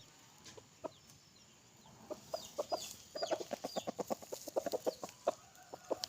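A young rooster, a seven-to-eight-month-old crossbred gamecock, clucks in a run of quick, soft notes, starting sparse and speeding into a steady rhythm, with faint outdoor background.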